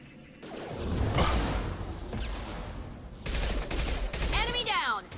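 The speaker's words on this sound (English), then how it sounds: "Taking heavy fire!" Gunfire in the Mass Effect 2 Legendary Edition game: a dense fusillade of shots and whooshes with brief gaps, mixed with in-game voices shouting over the combat.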